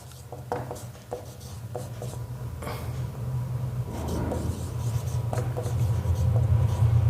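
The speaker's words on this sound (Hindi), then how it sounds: "यहाँ पे हम लोग लिखेंगे नोट में" Pen or chalk writing notes during a physics lesson, with short scratchy strokes in irregular bursts over a steady low hum that grows slightly louder, fairly faint and up close, with no speech.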